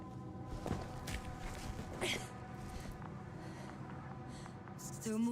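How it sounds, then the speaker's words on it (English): Footsteps in the video game The Invincible, soft muffled steps at a walking pace beneath a droning ambient hum, with a few faint thuds and a brief burst of noise near the end. "his footsteps."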